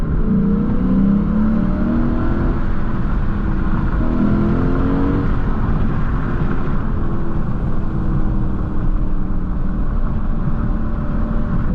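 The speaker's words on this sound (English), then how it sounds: "I'm actually going to lower the window so you can hear some more of this engine." A 2024 Lexus IS 500 F Sport Performance V8 pulls hard with a low, rising engine drone that builds through gear changes, loud and steady from inside the cabin with the window lowered, no talking.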